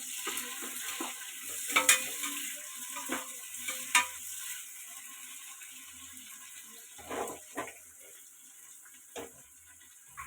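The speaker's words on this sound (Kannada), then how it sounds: "ಮೆಣಸಿನ್ಕಾಯಿನೂ ಕೂಡ ಹಾಕ್ಬಿಟ್ಟು ಫ್ರೈ ಮಾಡ್ಕೊಬಿಡೋಣ." Green chillies fry with onions in a pan: a soft frying hiss runs throughout, broken by scattered clicks and scrapes of stirring, with no voices.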